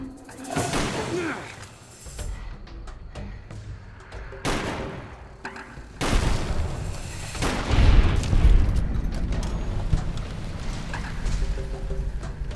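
Shotgun blasts ring out against Cazadors in Fallout: New Vegas, several loud booming shots spaced a few seconds apart over a busy, rumbling game soundscape, with some faint talk underneath.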